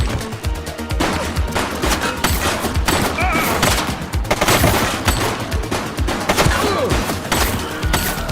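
Gunfire from an armed suspect in the police game The Precinct, loud sustained volleys of rapid shots and bursts with thuds, continuous and close, with a faint voice underneath.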